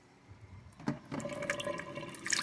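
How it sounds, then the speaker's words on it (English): Cold tap water runs briefly into a kitchen sink as asparagus is rinsed, a close, soft splashing that builds over a couple of seconds. "Rinse the asparagus off"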